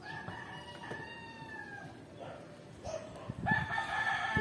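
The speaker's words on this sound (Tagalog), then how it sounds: "In our neighborhood, chicken. They have lot of chicken." Rooster and chickens in a residential neighborhood, with a drawn-out crowing call early on and more clucking and crowing toward the end, fairly close over a light ambient background.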